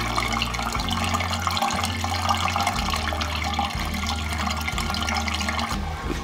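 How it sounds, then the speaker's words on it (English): Water gurgles and trickles steadily through pipes in a motel, heard from the bedroom, with a low rhythmic hum pulsing underneath at regular intervals. "you can certainly still hear that water gurgling quite loudly from the bedroom"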